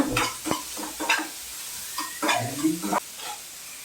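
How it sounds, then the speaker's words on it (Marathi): Finely chopped onion and green chilli fry with garlic in a pan, with an even sizzle and repeated clinks and scrapes of a spoon being stirred close by. "हिरवी मिरसांग बारीक कट केल्ली आनी हो बारीक चिरलेलो कांदो मातशें तळसून घेता"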